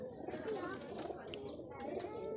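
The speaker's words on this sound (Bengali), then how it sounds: "দাদার লফটে বিভিন্ন জেনারেশনের কবুতর রয়েছে" Madrasi and Giribaj pigeons coo softly in a loft, their low warbling calls overlapping through a short stretch with faint chirps and distant voices underneath.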